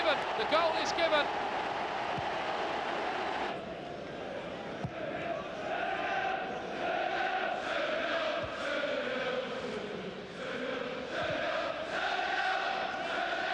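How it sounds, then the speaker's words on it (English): Aston Villa football fans in a stadium crowd during a 1992-93 match against Middlesbrough, producing a steady roaring swell of noise with chanting rising and falling beneath a commentator's voice. "Just listen to the noise that the Aston Villa fans are making"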